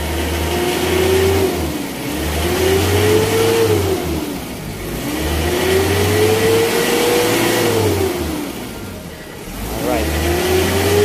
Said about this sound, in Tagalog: So narinig nyo naman yung tunog ng makina niya kanina.